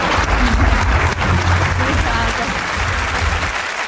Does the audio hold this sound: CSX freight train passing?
no